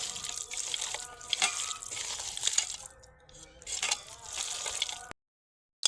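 A kitchen tap runs steadily as hands coated in marinade for Kadaknath chicken curry are rinsed, a close splashing wash lasting about five seconds before cutting to silence.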